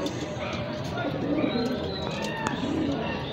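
Caged pigeons sitting in rows coo softly and repeatedly beneath a man's nearby speech, with occasional chirps and faint background bustle.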